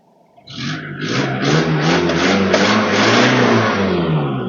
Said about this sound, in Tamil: இன்ஜின் இப்போ ரேஸ் பண்ண பாருங்க